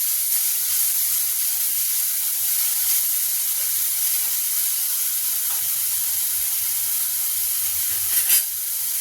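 Chopped onions fry lightly in a pan for chaat, a steady soft sizzle running throughout with a brief louder crackle near the end, no voices.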